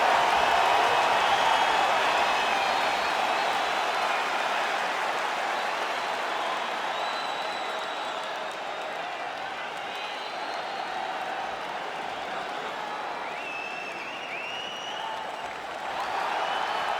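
A capacity arena crowd in the UFC 5 video game applauds and cheers in a long, continuous roar, loud at first then settling to a steady wash, with faint voices mixed beneath.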